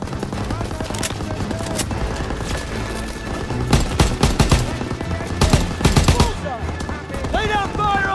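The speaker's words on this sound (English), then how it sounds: "Lay down fire on that MG!" Machine gun fire in the Call of Duty WWII video game, with rapid bursts and scattered shots over battle noise, a voice shouting briefly near the end.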